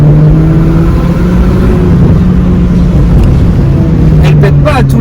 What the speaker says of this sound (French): on va se refaire une petite accel en reprise en 3